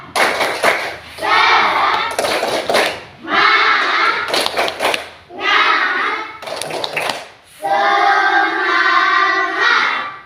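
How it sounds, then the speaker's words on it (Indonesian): Children in a classroom perform the tepuk semangat clapping routine, loud rhythmic bursts of hand claps and chanted voices in four or five separated phrases with short pauses between them. "Coba tepuk semangat dulu. Ya, tepuk semangat."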